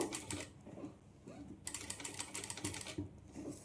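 A sewing machine stitching sleeve fabric in short bursts, its rapid needle clatter starting and stopping in quick runs, close and fairly quiet.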